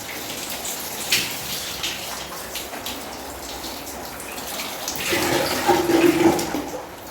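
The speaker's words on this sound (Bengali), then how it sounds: "পাইপ লাগিয়ে দিয়েছি পাইপ লাগিয়ে নিজের মতো নিজে ভরছে" Tap water running through a pipe into a container, a steady close rushing splash that grows louder and fuller toward the end.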